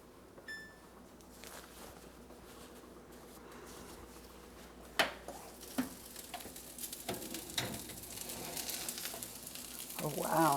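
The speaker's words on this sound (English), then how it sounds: "Oh wow, hear the sizzle?" Baked salmon fresh from the oven gives off a sizzle that starts soft and steady, then breaks into sharper crackles and pops that grow louder near the end. Faint background voice.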